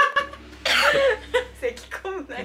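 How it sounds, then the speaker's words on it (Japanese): A short coughing fit mixed with voices: a few harsh, breathy coughs burst out amid chatty speech, close and loud. "咳込むな。"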